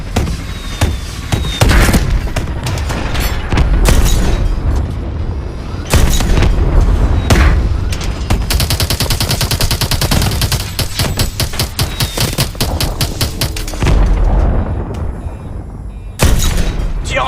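Heavy tank cannon blasts and rapid gunfire pound continuously in a loud, chaotic video game battle (Call of Duty: Advanced Warfare), booms and bursts of automatic fire overlapping with little pause.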